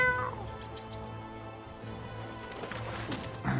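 A cat meows in the fantasy role-playing video game Baldur's Gate, a couple of clear mewing calls over a low steady game ambience with faint clatter, no speech.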